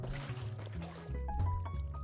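Water poured from a bucket in Minecraft, a short sloshing, gurgling splash of liquid, fairly quiet and heard alone.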